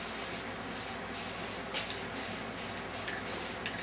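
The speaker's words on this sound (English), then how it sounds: "And it doesn't take but a minute to spray the whole thing." Aerosol spray paint hisses from a can onto a kitchen cabinet door in repeated short bursts, close and steady, with no talking.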